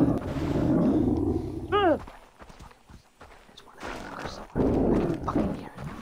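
A tiger in the game Far Cry 3 lets out loud, close growling roars that rise and fall, mixed with footsteps and other game sounds.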